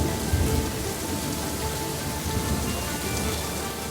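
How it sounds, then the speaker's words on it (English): Heavy tropical rain pours down steadily during the wet season in South Sudan, a dense, continuous hiss of drops with low rumbling, close and loud throughout with no voices. "when it really rains in South Sudan,"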